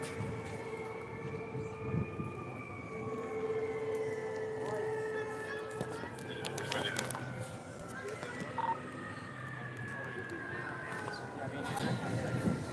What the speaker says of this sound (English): Oh, there's ambulance coming.